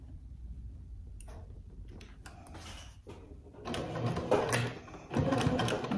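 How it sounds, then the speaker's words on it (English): A sewing machine stitches a seam with a 1/2 inch seam allowance on a Halloween trick-or-treat bag, its mechanical whir starting in short bursts and then running louder and steadier up close, with no talk. "now we are going to sew with a 1/2 inch seam allowance"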